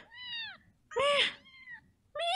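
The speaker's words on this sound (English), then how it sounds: "Just meow for me!" A house cat meows repeatedly up close, one long plaintive cry followed by a louder, strained, slightly raspy meow and the start of another, with faint background noise underneath.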